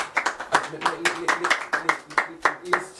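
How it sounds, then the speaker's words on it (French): A small studio audience on a French TV show claps for a rapper in a steady, fairly rhythmic patter of distinct claps, close and moderately loud, with talking mixed in. "Est-ce qu'on peut applaudir pour lui quand même?"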